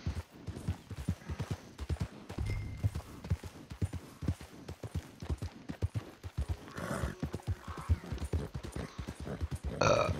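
A horse in a video game trots with rapid, rhythmic clip-clop hoofbeats that continue steadily throughout, fairly close and moderately quiet, with occasional grunts and snorts.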